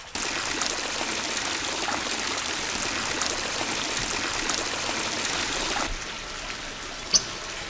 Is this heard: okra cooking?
no